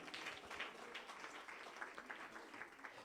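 A congregation claps in a church service, a faint, steady patter of many hands without a break, distant and low in level.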